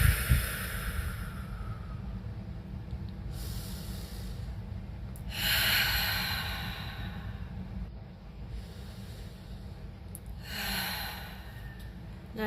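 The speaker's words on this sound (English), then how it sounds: "taking a few deep breaths" Slow, deep breaths taken during a meditation: a few long, airy inhales and exhales spaced several seconds apart, close to the microphone and soft, over a faint steady background hum.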